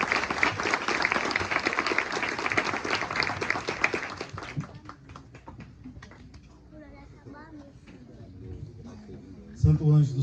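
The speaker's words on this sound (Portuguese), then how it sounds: "Vamos aplaudir o Senhor." A Catholic congregation at Mass breaks into loud, dense applause that lasts several seconds and then fades to scattered claps while voices murmur, ending with a brief thump.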